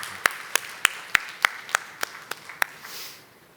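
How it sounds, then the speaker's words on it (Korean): A congregation at a Korean church service claps after a prayer, giving about ten separate sharp claps in an uneven rhythm that fade away toward the end. "우리 주님께 영광의 박수를 드리겠습니다."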